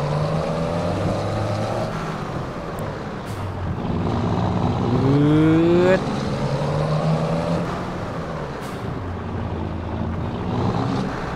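A Ford truck engine in Farming Simulator 22 drones loudly and continuously, its pitch rising in a rev before settling back to a steady rumble.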